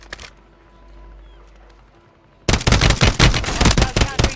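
Video game gunfire in Rebirth: after a quiet start with faint sounds, a loud burst of rapid shots erupts and continues densely to the end.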